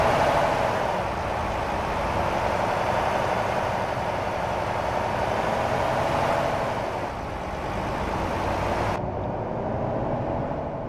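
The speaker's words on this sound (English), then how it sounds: "also like how the trucks look and sound." A truck engine drones steadily while driving in American Truck Simulator, a constant loud mechanical rumble with road noise, unbroken and without talk, near the cab.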